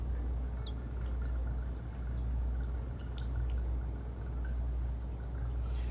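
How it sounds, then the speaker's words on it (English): Vinegar poured over raw BBQ ribs to wash them, a soft steady trickle and splash of liquid running on for several seconds at low volume, with no talking. "So I'm gonna just wash my meat with some vinegar"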